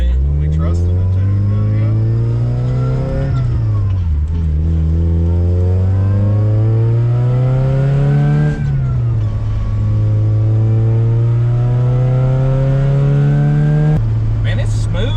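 A cheaply supercharged Mazda Miata's engine rises and falls through several loud revs while driving, with a strong steady tone sweeping up and dropping at gear changes, close and dominant, with occasional voices in the car.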